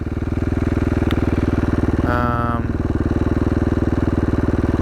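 A 2016 KTM 450 XCF dirt bike engine runs close and loud with a steady rapid firing pulse, briefly rising in pitch as it revs around the middle before settling back to a fast idle.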